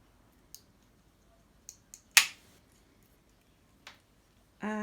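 Material being cut in half for thorn scales: a few sharp clicks and one louder snipping crack near the middle, close and isolated against near silence.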